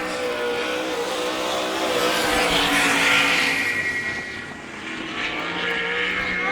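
A sprint car on a dirt oval at Sarver, Pennsylvania, runs a hard qualifying lap at an All Star Circuit of Champions event, its engine a loud sustained roar that swells, dips briefly, then climbs again.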